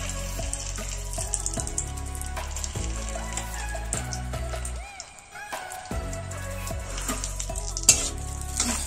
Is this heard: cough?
no